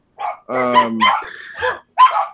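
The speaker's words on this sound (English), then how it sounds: "now there's dogs barking and all sorts of scary stuff" Dogs bark in short bursts of harsh barks and higher yips, close and fairly loud, with brief silences between calls.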